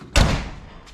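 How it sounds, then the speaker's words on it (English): A worn, run-down Ford Mustang 5.0 has its car door shut with one solid thud near the listener, the low boom fading into quiet background noise. "Shut the door."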